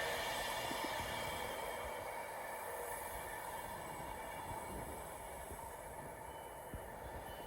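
A Class 390 train in Pride livery at Wigan North Western station, a steady close rumble of wheels and rolling stock that holds evenly throughout with no talking.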